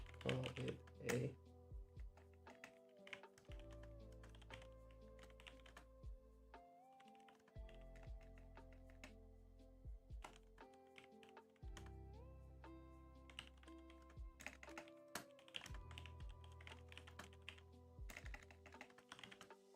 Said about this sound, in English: Man, this keyboard, bro, I keep double typing